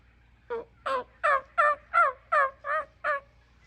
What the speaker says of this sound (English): Yeah, I heard them gobble.